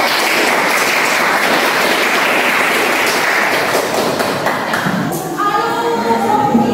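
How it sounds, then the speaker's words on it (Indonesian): Applause fills a high school chemistry classroom after a group presentation, a dense steady clapping throughout that gives way to a voice near the end. "kita kasih aplaus dulu"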